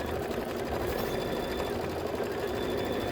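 An embroidery machine stitches steadily at a fast, even pace, its dense mechanical whir and rapid needle chatter holding constant and close with no pauses or voices.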